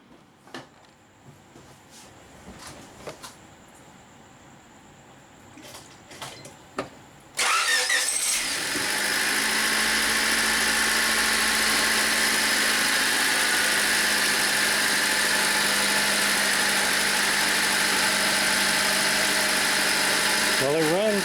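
A Honda Civic, just back together after timing belt and accessory drive belt work, cranks and fires up abruptly, then settles into a loud, steady idle after a few quiet knocks and clicks.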